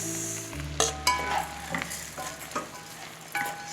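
Rice being stirred in a pot with carrot for a chickpea pilaf, a low hum under a few scraping, clinking spoon strokes over about four seconds.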